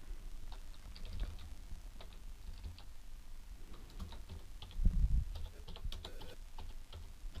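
Fingers type on a computer keyboard in quick, uneven runs of light key clicks, close and fairly quiet, with a brief heavier thump partway through.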